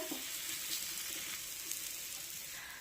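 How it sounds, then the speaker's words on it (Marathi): Beetroot paratha cooks on an oiled hot tawa with a continuous dense hiss of sizzling, steady and close throughout. "हा पराठा आपण तव्यावर दोन्ही बाजूने छानपैकी भाजून घेऊया।"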